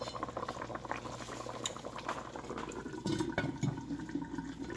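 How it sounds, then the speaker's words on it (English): Fish and okra soup simmering under a covered pot, with a steady low bubbling boil and occasional light clinks, close and continuous with no talk. "So I'm going to cover this and let this cook."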